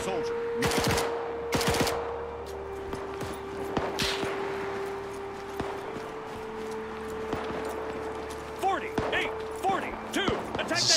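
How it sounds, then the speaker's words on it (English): Sharp gunshots in the ArmA 3 video game during a World War II Battle of Berlin multiplayer map, as a few loud close cracks followed by scattered fainter reports. Steady tones and low background rumble run underneath. "Just a suppressive fire."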